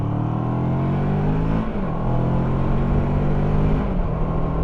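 A Moto Morini X-Cape 650 adventure motorcycle with a 650cc engine hums along the road, its engine drone steady and close with small rises and dips in revs, and no talking over it.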